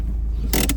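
A car handbrake is pulled on during a driving lesson, giving a quick ratcheting creak that starts abruptly and ends with a second short burst over a low steady engine hum.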